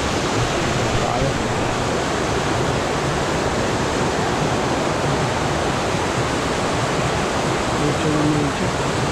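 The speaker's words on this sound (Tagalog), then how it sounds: "Babagsak ang falls." Binayoyó waterfall pouring with a constant, loud rushing roar that fills the whole stretch without letup.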